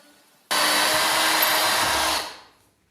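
A 2-in-1 drill from China threads a freshly drilled hole, starting abruptly into a loud, steady high whir for about two seconds before winding down.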